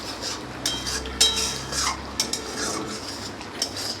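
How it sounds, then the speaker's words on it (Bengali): A spoon stirs and scrapes sour yogurt and ground nut paste into a vegetarian dish in a pot, giving light clinks and scraping strokes at an irregular pace with no talk. "এবার এটাকেও ভালো করে মিশিয়ে নেব।"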